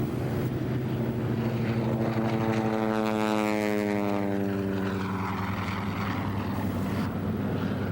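A Curtiss SB-2C Helldiver, a restored WWII dive bomber, drones past with a loud, steady propeller-engine roar that swells and shifts in pitch as it passes nearby, with no voices.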